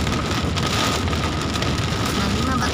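Heavy rain pours down steadily over the city of Jakarta, a dense, continuous hiss of drops hitting surfaces with no pauses, loud and close throughout.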